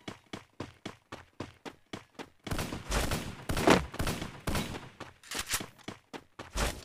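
Gunfire in the mobile shooter Free Fire: a fast run of evenly spaced single shots, then several longer, heavier bursts of automatic fire, all close and loud, with no talking.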